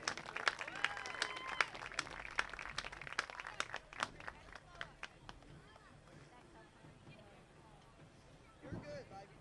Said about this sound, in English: Please give this row of senior cheerleaders a round of applause as they exit the field